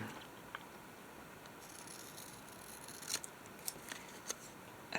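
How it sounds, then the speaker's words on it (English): Scissors snipping paper for a handmade collage: a few quiet, crisp cuts come in a loose cluster near the end, with no one speaking. "I'm going to cut this again."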